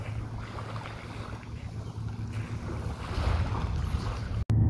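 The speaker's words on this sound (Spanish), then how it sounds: "El mar." Open sea on a sunny, lightly breezy day, a steady broad wash of water and wind noise with a low rumble, fairly even throughout and rising slightly toward the end.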